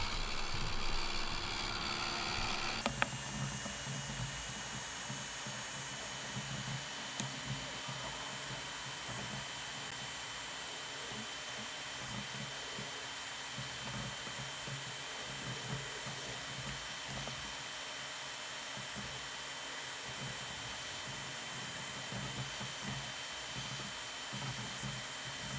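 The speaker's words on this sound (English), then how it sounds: "I'm going to use my Ranger Heat It tool." A Ranger Heat It heat tool dries a handmade Christmas card: after a short quieter start, a steady fan-driven whirr and hiss switches on and holds evenly at close range for the rest of the stretch.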